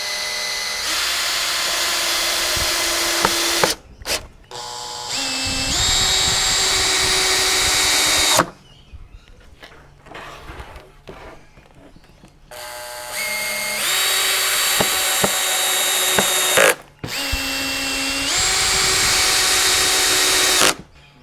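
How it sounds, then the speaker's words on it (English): A power drill drives screws into a cedar Flow hive super, with four loud high-pitched bursts of whirring separated by pauses filled with faint handling clatter, recorded up close. "now we just screw it in place"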